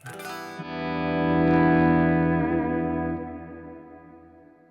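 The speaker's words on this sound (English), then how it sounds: "This is your church preset, right? And just modified it a little bit." A church reverb preset with the diffusion turned up, applied to a sustained tone that swells and then fades slowly with a long, smooth, natural-sounding tail. No one speaks.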